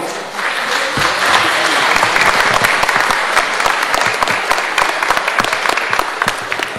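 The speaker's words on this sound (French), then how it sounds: "je vous demande d'applaudir fortement" Loud, sustained applause from an audience welcoming a guest at a pin collectors' fair in Louviers, France, dense clapping filling the whole stretch without a break.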